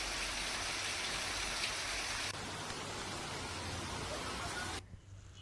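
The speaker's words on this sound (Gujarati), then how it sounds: "સુરત શહેરમાં જામ્યો વરસાદી માહોલ કતારગામ, વરાછા, ડભોલીમાં વરસાદ" Rain falls over Surat in Gujarat, making a dense, even hiss of heavy rainfall that holds steady throughout and eases only slightly toward the end, with no voices.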